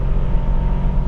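An Aston Martin DBX707 SUV launching hard in a drag race against a Porsche Cayenne Turbo GT: a loud, steady low engine roar and rumble, close by, held evenly throughout with no voices.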